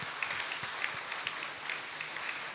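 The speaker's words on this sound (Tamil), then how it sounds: "ஒரு கைத்தட்டு தம்பிக்கு" A crowd at a holy Mass at St. Anthony's Shrine in Bommidi, Dharmapuri claps for a young man, a quick, even patter of hands heard somewhat distant.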